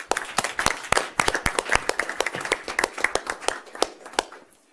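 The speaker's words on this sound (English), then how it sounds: "let's give them a round of applause" A small group at a school board meeting claps for award winners, a few dozen distinct sharp claps in a loose, uneven patter that thins out toward the end, close and moderately loud.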